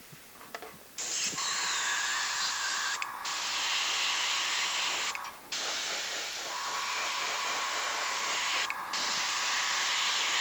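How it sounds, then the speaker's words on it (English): Airbrush misting gold paint for a predator bio, a steady close hiss in long bursts with two brief breaks where the trigger is released, alone without talk. "this seems a lot more fluid to run through the airbrush"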